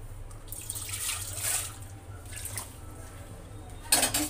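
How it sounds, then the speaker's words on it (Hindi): Flattened rice (poha) is rinsed with water in a kitchen, with soft splashing and trickling in uneven bursts, fairly close and moderate, and a sharper splash near the end. "तो देखिए, मैं पोहा को अच्छे से मैं वॉश कर ले रही हूँ"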